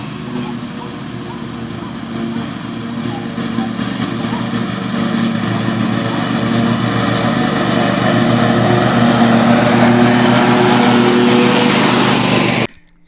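A small-engine lawn mower runs steadily and loudly up close for about twelve seconds, a constant droning hum with faint talk underneath, then cuts off abruptly at the end.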